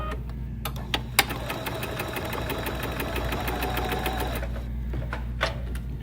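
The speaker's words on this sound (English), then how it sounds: "And I'm gonna sew across that" A sewing machine stitches across a seam on a small fabric key fob pouch, with a steady, close mechanical whirring run for a few seconds between a couple of sharp clicks.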